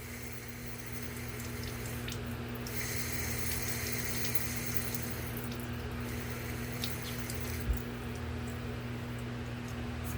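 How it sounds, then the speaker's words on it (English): Tap water runs steadily into a sink to wet a makeup blend brush, a constant close hiss and gush over a low hum, with one brief knock near the end. "I'm just wetting my blend brush."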